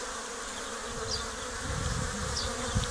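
Honeybees hum at a hive entrance in spring as they bring in the first pollen, a dense, steady close-up drone with individual insects briefly passing near.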